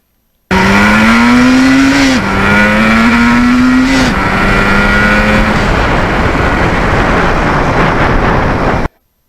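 Kawasaki H1 triple-cylinder two-stroke motorcycle accelerating hard, its loud buzzing engine note climbing in pitch through two gear changes before settling into a steady roar with rushing wind noise, close and continuous.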